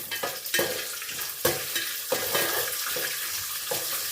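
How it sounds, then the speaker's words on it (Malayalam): Cashew nuts frying for a sweet lentil payasam, a bright continuous sizzle with rhythmic stirring strokes and scrapes roughly every second, close and loud without speech. "അണ്ടിപ്പരിപ്പൊന്ന് വറുത്ത് കോരാം"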